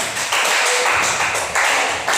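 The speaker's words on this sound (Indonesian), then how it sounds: "Tepuk tangan buat Mbak Riris" Students in a classroom clap for a classmate, a short burst of close, dense handclaps that swells in a few waves over a couple of seconds with no talking.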